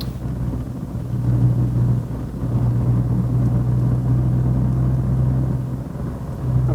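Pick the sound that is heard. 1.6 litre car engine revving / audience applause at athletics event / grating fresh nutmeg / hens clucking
1.6 litre car engine revving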